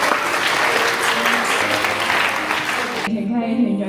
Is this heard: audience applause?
yes